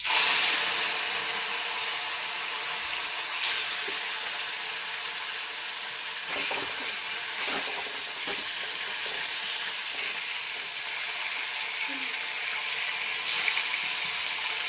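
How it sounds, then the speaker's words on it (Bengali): Rohu fish sliding into well-heated oil for frying sets off a steady, loud hiss and sizzle that holds for the whole stretch, with small crackling bursts rising and falling and no talking over it. "মাছ ভাজার জন্য খুব ভালোভাবে তেলটা আমি গরম করে নিয়েছি। এবার মাছটা ছেড়ে দিচ্ছি।"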